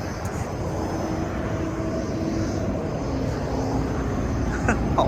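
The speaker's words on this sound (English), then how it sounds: "See, at the back it's all aeroplanes" Aircraft engines around Las Vegas airport, a continuous broad roar that holds steady, moderately loud and somewhat distant, with faint background noise mixed in.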